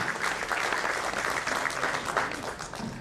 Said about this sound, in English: I request all of the gathering to give a big round of applause for all of them